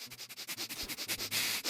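Repeated quick sniffing from the video game Dialtown: Phone Dating Sim, a rapid rhythmic series of close, breathy sniffs growing slightly louder toward the end.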